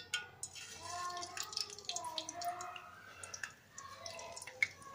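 Potato rolls sizzle and crackle steadily in hot oil in a pan, a continuous soft frying hiss with scattered pops and bubbling throughout.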